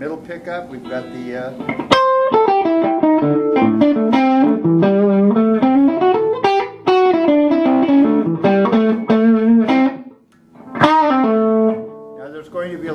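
Middle pickup of a Blockhead First Born solid-body electric guitar with humbuckers, played loud and overdriven with a flowing lead line, bends and sustained notes, one short gap before the final phrase.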